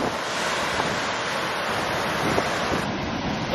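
Ocean surf at Cape Agulhas, the southern tip of Africa where the Indian and Atlantic Oceans meet, a continuous broad roar of breaking waves mixed with gusting wind buffeting the microphone, no voices.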